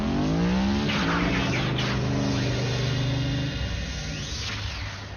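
A car engine revs and roars in a Transformers Prime cartoon scene, a loud rising and falling motor whine with tire-squeal-like sweeps, easing off slightly toward the end.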